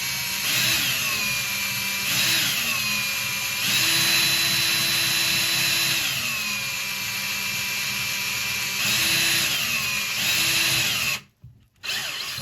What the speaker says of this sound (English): And you just keep going around and just drilling out some lead.